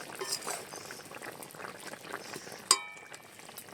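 Fish curry made with Japanese puti fish and okra simmering in a covered pot, a soft continuous bubbling and hiss with a sharp clink near the end, no voices.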